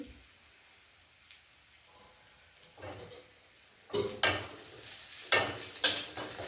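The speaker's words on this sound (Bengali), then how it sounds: "এর মধ্যে পেঁয়াজটা ভাজা হয়ে গেছে এতে একটু আদা দিয়ে দিচ্ছি" Onions sizzle in a frying pan, first as quiet background frying, then louder stirring and scraping as ginger is added and mixed in, close and alone.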